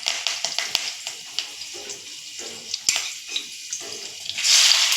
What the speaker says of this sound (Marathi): भेंडी फोडणीला घालून घेऊ